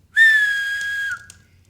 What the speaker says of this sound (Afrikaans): hoor ek skielik dieselfde sagte fluitgeluid wat sy beskryf het